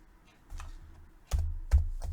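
A few soft, scattered keystrokes on a computer keyboard while a command is typed, close and quiet.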